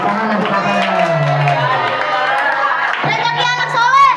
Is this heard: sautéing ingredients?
no